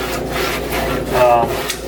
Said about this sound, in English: you can really feel the grime scratching off